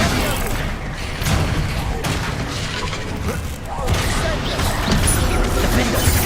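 Bombarda spell explosions in a Hogwarts Legacy battle: a dense, loud run of booms, crashes and impacts that keeps going throughout, with a voice speaking amid the clatter.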